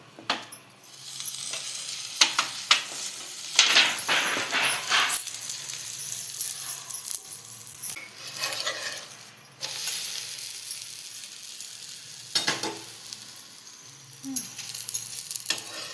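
Cauliflower paratha frying in oil on a hot pan gives a steady close sizzle, broken by intermittent scraping and stirring clatter from a utensil, with no talking.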